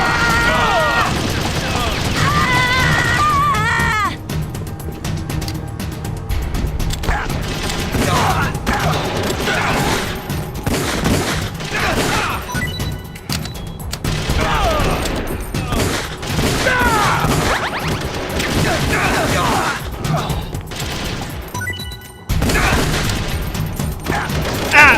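Sustained video game gunfire from Metal Gear Solid: The Twin Snakes, dense bursts and volleys running continuously under shouted game dialogue and background score.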